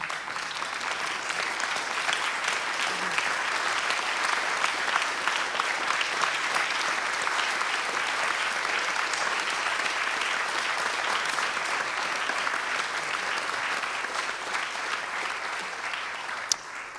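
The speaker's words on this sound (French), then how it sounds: "je vous invite à vous lever et à nous applaudir tous ensemble" Sustained applause from a large standing crowd at the closing plenary of a conference, a dense, even roar of clapping that carries on steadily without pause.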